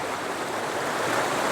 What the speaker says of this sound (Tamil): அப்படியே இங்கே வந்து நின்ன உடனே தண்ணி ஆரவாரிக்கிறது வந்து பயங்கரமாக இருக்குது